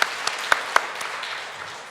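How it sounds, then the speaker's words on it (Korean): A few scattered claps ring out at a Korean church revival meeting in Daejeon, sharp and separate at first before thinning into a soft, diffuse patter. "하나님께 영광을 박수"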